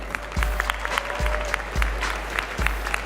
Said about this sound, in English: let's give another round of applause for all of our judges here this evening